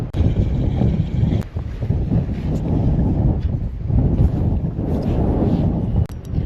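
Strong wind buffets the microphone aboard a small outboard fishing boat at sea off Tongyeong during bigfin squid fishing, a loud, continuous low roar with gusty surges and brief drops, and no talk.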